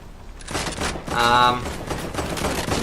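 Rapid gunfire bursts in a Fortnite match, including the new pump shotgun, loud and close in a dense fusillade, with a voice talking over parts of it.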